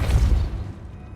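A Depulso force spell cast in Hogwarts Legacy gives a single heavy, low boom up front that rolls off and fades quickly.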